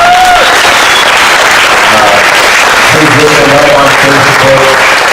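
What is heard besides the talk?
audience applause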